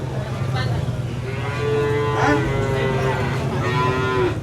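Cattle at an Indonesian livestock market before Eid al-Adha give several long, drawn-out moos close by, over steady crowd and traffic murmur.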